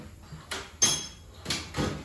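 Car door swinging and latching on a Foxbody convertible with freshly rehung hinges: a few quiet creaks and clunks, then a sharper shut near the middle and another soft thud toward the end, close by with no talk.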